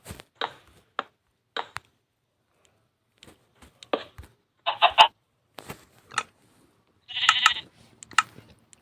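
Sheep bleating in a Minecraft skyblock farm, heard as several short, scattered calls mixed with clicks and blocky game noises against near silence.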